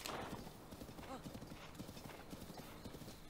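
Horse hooves clip-clopping in Zelda: Breath of the Wild, a quick regular trotting rhythm of soft hoofbeats, fairly faint and continuous throughout.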